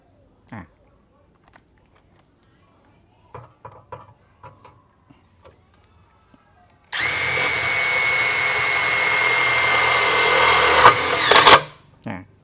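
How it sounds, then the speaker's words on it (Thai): A few faint clicks and taps, then an OSUKA OCID821 cordless impact driver whirs loudly and steadily for about five seconds, driving a metal-sheet roofing screw, before winding down abruptly. "ยิงโดยใช้น็อตหลังคาแบบนี้ครับ น็อตยิงหลังคาเมทัลชีตนะครับ"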